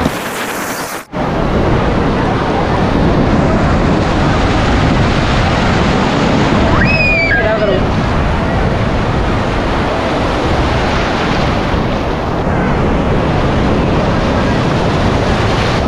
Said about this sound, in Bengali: এই হচ্ছে পুরীর সমুদ্র